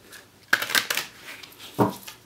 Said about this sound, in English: So just shuffling them a little bit.